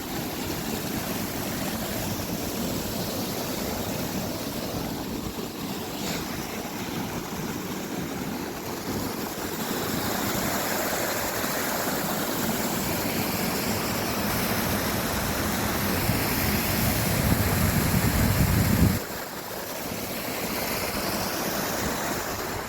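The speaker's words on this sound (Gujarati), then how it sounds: "અને પાણી જો ધીમું જાય છે." The Malan river flows slowly past its bank in a steady, broad rushing wash that continues throughout. It dips briefly near the end and returns, and no one speaks.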